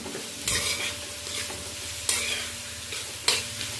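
Food frying in a pan while a utensil stirs it constantly, with a steady sizzle broken by several sharp scraping stirs at irregular intervals, close and clear with no voices.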